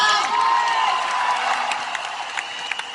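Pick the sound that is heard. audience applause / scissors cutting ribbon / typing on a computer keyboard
audience applause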